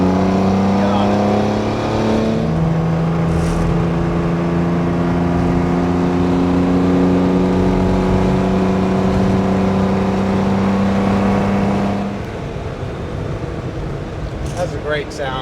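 A 1965 Maserati Sebring 3500 GTI Series 1 by Vignale accelerates hard past a Prius. Its engine is heard from inside the car, loud and rising in pitch over about twelve seconds, then easing off.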